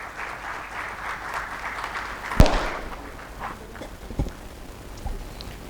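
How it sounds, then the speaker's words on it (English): An audience applauds at an inaugural address by a government official, a steady patter of clapping from a hall with a few louder sharp claps standing out. "So with a huge round of applause, may I please invite on stage Dr. Rajiv Bahl, sir."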